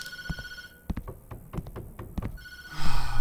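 Telephone ringing in the Tattletail video game, a loud bell ring repeating in short bursts with taps and thunks between, close and alone with no talk.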